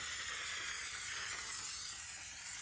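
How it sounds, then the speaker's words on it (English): A steam cleaner blasts the door jambs of a Range Rover during detailing, giving a steady, close, airy hiss that runs unbroken from start to finish with no voices. "Steaming out the door jambs."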